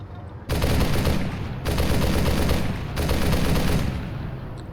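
Sustained bursts of heavy .50 cal machine gun fire in an ArmA 3 WWII mod, three long loud volleys close by with brief gaps between them.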